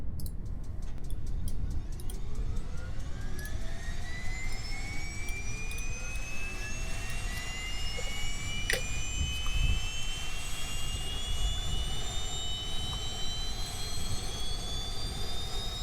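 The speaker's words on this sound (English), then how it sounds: "Let's turn our engines back on." Aircraft jet engines starting up in Kerbal Space Program, a steady loud whine rising gradually in pitch as they spool up over a constant low rumble, with no talking.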